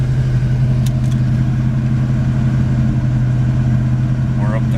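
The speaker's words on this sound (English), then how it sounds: "It idles very slowly with the AC on." A dually pickup truck idles slowly with the air conditioning running, a steady low engine drone holding even and close throughout, with a faint mechanical whir riding above it.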